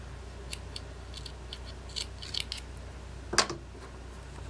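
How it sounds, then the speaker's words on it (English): Scissors snipping through crochet yarn, a few faint light clicks followed by one crisp close cut, quiet otherwise. "cut your yarn"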